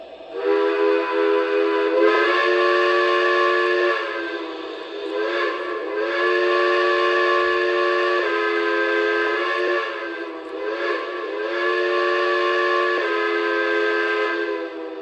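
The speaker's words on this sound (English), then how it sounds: "I just personally like that whistle sound, but you can quill it higher." A loud, sustained model train steam whistle from a Lionel Legacy engine with several chime tones, repeatedly bending upward in pitch as it is quilled, with short dips between long blasts.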